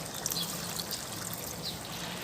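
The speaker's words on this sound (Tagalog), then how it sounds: "maglagay lang ako ng isang basong tubig" Water from a glass poured into a cooking pot of patola and sardines, a steady continuous trickle and splash lasting a couple of seconds, close by with no talk.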